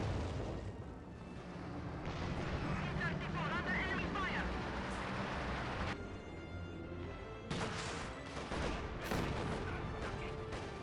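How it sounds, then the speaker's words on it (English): Artillery barrage from the Company of Heroes 2 strategy game, with thudding blasts and crackling gunfire over steady battle rumble, under a commentator's continuous voice. "We'll be initiating this barrage using the flamers, trying to help slow his opponent's advance."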